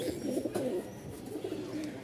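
Pigeons at a Rajshahi loft coo softly, low repeated throaty calls, quiet and close, with faint background noise.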